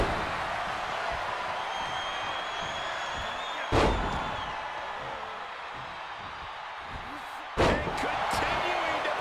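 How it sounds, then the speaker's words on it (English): A wrestler's body slam in the video game WWE 2K23 lands as two sharp, heavy thuds a few seconds apart over a constant arena crowd murmur, while a commentator talks throughout. "Taking down with a body slam."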